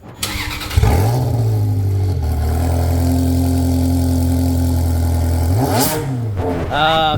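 A Ferrari started with a key: starter cranking, then the engine catches and settles into a steady, loud idle for several seconds before a brief blip near the end.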